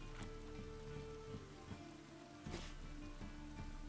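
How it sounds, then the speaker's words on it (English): Steady rain falls in The Witcher 3 video game, a soft continuous patter on surfaces with scattered drop impacts under a faint low background tone, no talk. "Looks like rain이 아니고 비가 오고 있다."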